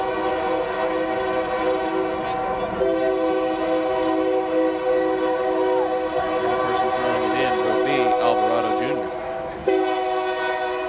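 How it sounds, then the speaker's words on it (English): A loud, sustained train horn blares steadily for several seconds near a stadium during a soccer match, close and droning, with a brief dip near the end before sounding again. "Train horn goes off behind us here at Anderson Stadium"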